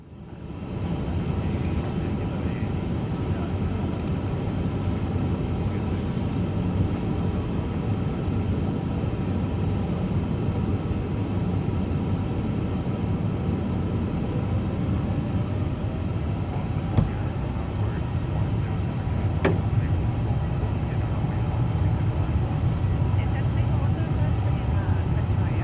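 Cathay Pacific Airbus A350 engines in simulated takeoff thrust in Microsoft Flight Simulator 2024, a steady loud low roar and rumble holding for the whole stretch, with occasional cockpit voices over it.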